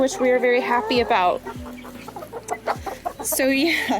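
Backyard chickens, a rooster and hens, clucking and calling close by in bursts throughout, with a person talking over and between the calls.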